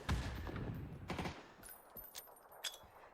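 Gunshots in a competitive video game match, a cluster of sharp shots near the start, then scattered fainter cracks and pops at moderate distance over quiet background.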